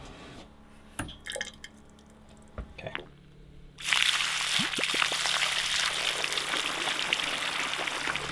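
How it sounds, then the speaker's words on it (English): Hot water drains out of a residential water heater through a hose in Alaska, starting with a few scattered drips and knocks, then shifting into a steady, loud gushing rush of flowing water that holds to the end. "we're gonna hook up a hose to our water heater,"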